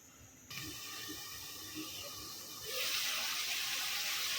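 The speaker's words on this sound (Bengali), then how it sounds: "চুলার জল বাড়াই দিচ্ছি।" Water is poured into a pot on the stove as a steady rushing hiss that swells louder partway through, alone and fairly quiet.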